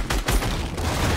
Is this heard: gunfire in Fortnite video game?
yes